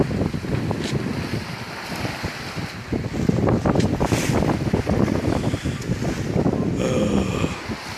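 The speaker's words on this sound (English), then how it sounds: "It's a bit more windy." Strong wind rushing and buffeting the microphone continuously aboard a sailboat at sea, with faint water and boat-like sounds underneath.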